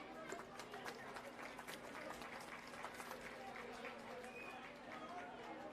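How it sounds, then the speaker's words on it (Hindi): An audience at a Delhi government old age home event claps to welcome the chief minister: a faint, distant patter of applause from a crowd, with background chatter mixed in. "आप सभी से अनुरोध करता हूं कि तालियों के गड़गड़াहट के साथ माननीय मुख्यमंत्री जी का आज के इस कार्यक्रम में अभिनंदन करें"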